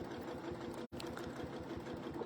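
A sewing machine stitches a quilt with a fast, even mechanical whirr and rapid needle ticking, quiet and close, pausing very briefly once before running on steadily.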